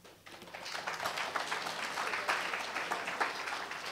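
Audience at a mental health recovery fair presentation breaks into applause, fairly faint and distant, swelling in after a quiet start and holding steady throughout with no talk over it.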